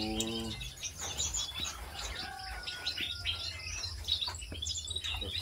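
Small birds, including mini and twig-type species kept in an aviary, chirp and tweet continuously in overlapping bursts, a lively chorus at moderate distance over soft background hiss.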